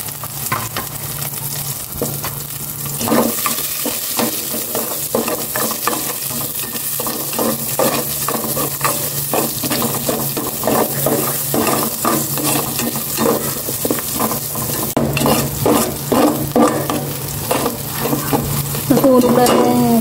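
Garlic and onion sauteing together in a hot pan give a steady, close sizzle, broken by repeated scraping and clinking strokes from stirring.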